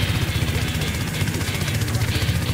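A helicopter in the video game Unturned: rotor thumps in a steady, rapid beat under a continuous engine whine, loud and close, with voices talking over it.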